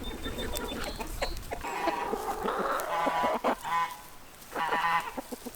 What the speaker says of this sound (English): Chicken's chasing me. They think I'm going to feed them.